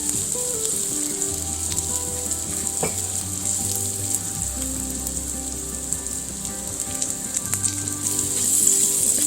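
Oil sizzles steadily in a pan on the stove, heating for a roux for a creamy chicken pasta sauce; the frying hiss is continuous and fairly loud, with no talking.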